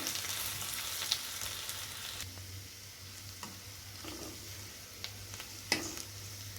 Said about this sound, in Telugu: ఉల్లిపాయ ముక్కల్ని బాగా వేగనివ్వాలి